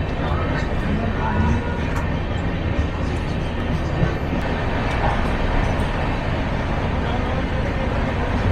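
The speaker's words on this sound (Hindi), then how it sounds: "दो लोकोमोटिव चल रहे हैं, अपन भी चल रहे हैं एक ही डायरेक्शन में।" A moving express train hauled by two diesel locomotives gives a loud, steady rumble and rattle of wheels and carriages, heard continuously from on board as the train travels.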